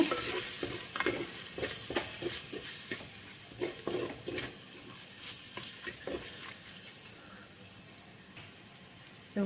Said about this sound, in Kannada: ಇದು ಬಿರಿಯಾನಿ ಮಸಾಲ ಪೌಡರು ಇದು ಮನೇಲೇ ನಾನು ಮಾಡ್ಕೊಂಡಿರೋ ಪೌಡರು ಒನ್ ಟೀ ಸ್ಪೂನ್ ಇದನ್ನ ಹಾಕ್ಕೊಂಡು ಚೆನ್ನಾಗಿ ಫ್ರೈ ಮಾಡ್ಕೊಳ್ತಾ ಇದ್ದೀನಿ